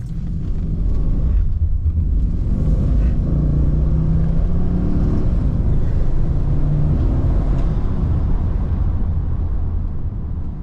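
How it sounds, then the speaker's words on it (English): A Bentley Brooklands accelerates up through the gears in sport mode, its deep engine rumble loud and sustained from the cabin, with a few shifts in pitch as it pulls, no talking. "let's take it up through the gears again. Still in sport mode."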